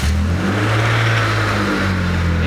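An engine-swapped BMW E36 Compact runs close by, its steady mid-pitched drone rising and settling slightly as it revs briefly, loud and continuous with no voices.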